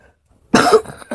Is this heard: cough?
yes